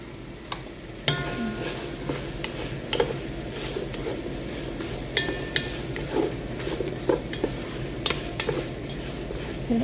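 Marinated chicken and tomatoes stirred in a pan on the stove, spoon scraping and clinking against the metal in irregular strokes over a steady background sizzle, close and moderately loud with no talking.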